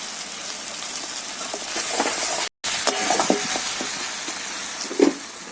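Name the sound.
spices frying in pan with fish and bottle gourd leaves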